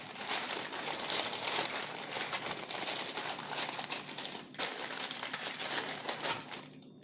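Baking paper and aluminium foil crinkle and crumple as they are pressed over meat, dense close rustling in continuous bursts with a short pause midway and no speech.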